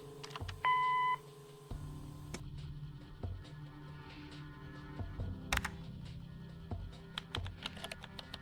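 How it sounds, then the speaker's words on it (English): A single short electronic answering-machine beep in the video game Kathy Rain sounds near the start, loud and clear, followed by quieter clicking and tapping noises with no talking. "Leave a message after the beep."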